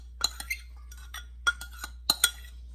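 Chopped onion is tipped into tuna ceviche in a bowl, giving a few light clinks and soft taps of utensil against the dish in short scattered bursts, close and fairly quiet.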